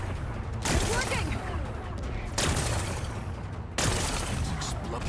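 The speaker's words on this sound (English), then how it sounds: "Gotta blast away some rocks, so I can expose the power cell." Rocks blasted apart by explosions in Horizon Forbidden West: three heavy booming bursts of blast noise, each loud and broad, with rumbling debris continuing between them.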